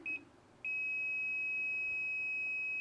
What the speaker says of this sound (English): it's beeping because I am in the presence of